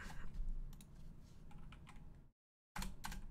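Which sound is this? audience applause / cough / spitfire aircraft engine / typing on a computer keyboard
typing on a computer keyboard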